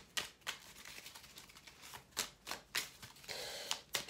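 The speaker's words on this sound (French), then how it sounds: "Alors, je vais redemander une petite carte." Small message cards drawn from a deck, heard as quiet, crisp papery flicks and snaps in a loose series of short bursts, with no talking.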